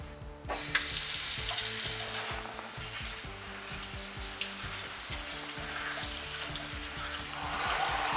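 Lava rocks for an aquarium filter being rinsed under running water, a steady close-up hiss of flowing water with occasional rattles and knocks of stones, continuous throughout with no voices.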